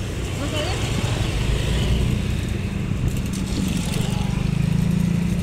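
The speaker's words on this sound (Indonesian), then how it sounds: "Lalu lalang mobil, motor, orang, semua lewat sini." Cars and motorbikes cross the old Dutch-era Panus bridge in Depok: a continuous traffic rumble with engines swelling and revving nearer toward the end, mixed with indistinct voices.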